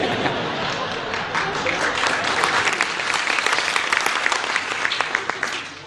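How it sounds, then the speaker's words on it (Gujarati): An audience claps and applauds at a Gujarati storytelling performance. The applause is dense, loud and sustained, with many hands clapping continuously throughout. "હા તાળીઓ વગાડી અનુભવી પાસે"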